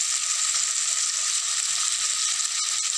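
Curry leaves dropped into onions frying in oil in a pan hiss with a steady bright sizzle, close and continuous, a few small crackles and spits near the end.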